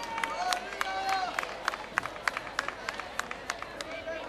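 Audience applause at a football trophy presentation for a top goalscorer, heard as scattered, irregular claps over crowd murmur, moderately distant, with speech-like babble mixed in.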